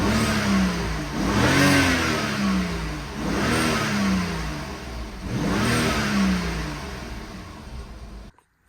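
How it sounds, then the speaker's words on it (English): A BMW engine with its stock intake revs three times in a steady cycle, each pull rising in pitch and falling back, loud and close with no talking, before cutting off abruptly at the end. "So this is with the stock intake. We're just gonna rev it."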